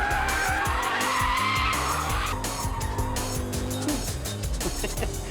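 A BMW M5 saloon, lowered on 18-inch wheels, is driven hard on a test track, its engine roaring steadily while the tyres squeal and skid through corners, loud and close throughout.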